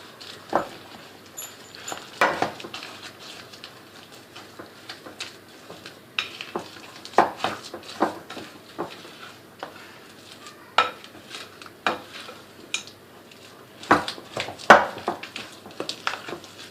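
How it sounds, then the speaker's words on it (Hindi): A spoon stirs chocolate chips, almonds and Oreo cookie pieces in a bowl, giving scattered clinks and scrapes in uneven bursts, close and fairly quiet. "डालने के बाद इसको अच्छी तरीके से हम मिक्स कर लेते हैं।"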